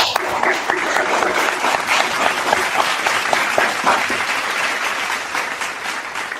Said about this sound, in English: a round of applause for the executive producer